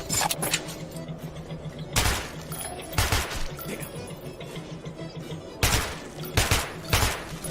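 Gunfire in the video game Metro 2033, several loud bursts of shots spaced a second or two apart, with quieter rattling between them.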